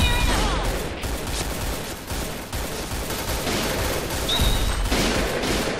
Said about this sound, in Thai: เล่น AK ต้องมีสตินะครับค่อยๆยิง ค่อยๆยิงประมาณนี้